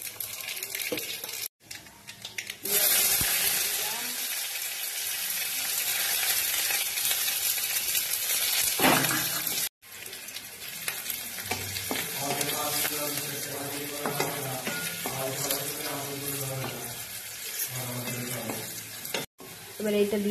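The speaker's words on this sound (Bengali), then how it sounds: "শুকনো লঙ্কাটা ভেজে নিই" Dried red chillies and nigella seeds sizzle in mustard oil in a wok, a loud crackling hiss with scraping stirs, brief gaps and occasional voices over it.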